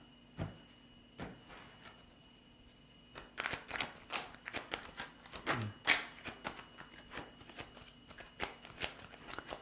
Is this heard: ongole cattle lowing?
no